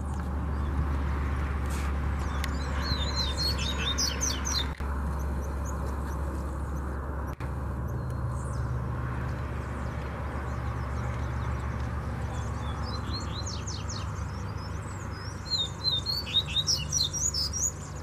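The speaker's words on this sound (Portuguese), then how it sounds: "Vamos ver os passarinhos aí, ó." Coleiros, double-collared seedeaters, chirping and trilling in quick bursts over a steady low hum, the songs clustered near the start and end and fairly faint against the background.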